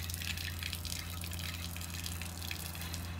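Water sprays steadily from a sink sprayer used as an outdoor shower on a Ford Transit van, a continuous hissing splash with fine dripping, close and even throughout with no talking.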